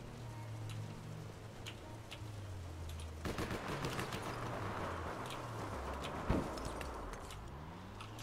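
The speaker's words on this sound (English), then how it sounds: "Someone shooting at us?" Gunfire in the online game APB Reloaded: a dense run of rapid sharp shots spreads across most of the clip over a steady game background, with a louder single burst near the end.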